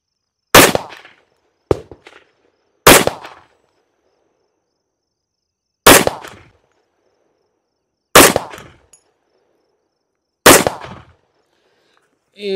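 Six sharp, loud gunshots from a Wilson Combat pistol in 460 Rowland firing 200-grain rounds at close range, spaced irregularly about one to three seconds apart, each ending in a short decay.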